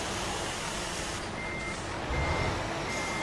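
Truck reversing beeps in a truck driving video game, a steady, repeating electronic beep over loud, constant engine rumble while the truck backs up, with no talk.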